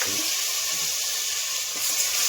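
Ginger-garlic paste sizzles in hot oil as it goes into the pan, a steady bright hiss heard close up that swells slightly near the end. No speech.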